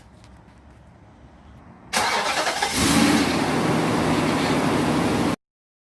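A Nissan Armada or Titan engine cranks and catches after a radiator replacement, then settles into a loud, steady running roar up close after a quiet stretch.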